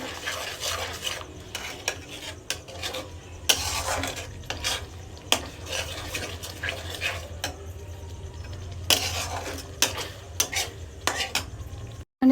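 Meat goes into hot oil in a cooking pot, then a utensil clatters and scrapes against the pot in quick, busy strokes over a continuous low sizzle, close and moderately loud, with no voices.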